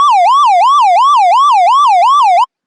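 Synthesizer patch mimicking a police siren: a steady, loud electronic wail sweeping up and down in a fast repeating whoop, about six cycles, alone with no talk, cutting off abruptly at the end.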